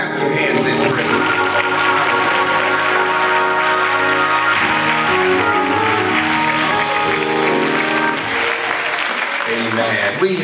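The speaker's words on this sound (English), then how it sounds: "Now clap your hands in praise." A church congregation at a convocation claps hands in praise, loud and steady throughout, over music and voices.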